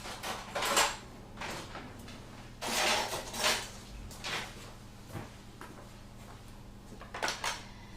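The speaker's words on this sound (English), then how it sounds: "I'll just get a knife and let's cut that brownie mix" A knife cutting through a block of brownie mix, with soft, intermittent scraping and clicking strokes against a board or tray, fairly quiet and close, in bursts separated by pauses.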